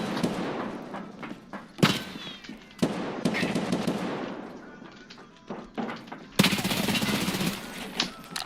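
Rapid gunfire bursts and sharp shots ring out in a first-person shooter video game, loud and close, with a crackling layered mix of weapon reports and game effects over several seconds.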